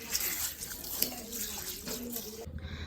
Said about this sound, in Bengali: তো এই চালটা এখন আমি ভালো করে পরিষ্কার করে ধুয়ে নেব